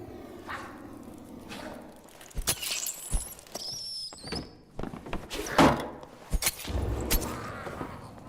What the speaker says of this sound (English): I just heard a door close